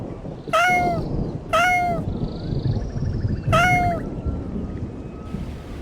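A cat meows three times, clear and fairly close, over a constant background rumble.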